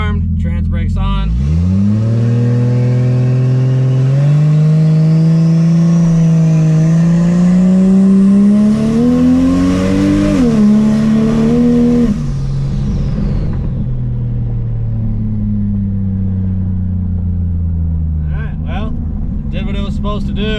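A Lexus IS300 with nitrous launches off the trans brake, its engine revving hard and climbing in pitch for several seconds before easing off into a steady drone, loud and close, with brief talk at the end.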